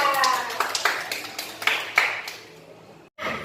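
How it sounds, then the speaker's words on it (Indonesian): Small classroom group clapping for a pupil named Tata during a lesson, a few ragged close claps fading out within about three seconds, with faint voices around them. "Tepuk tangan untuk Tata."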